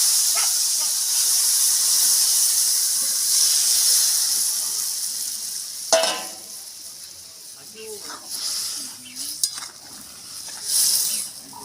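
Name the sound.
pouring fish broth into a hot pan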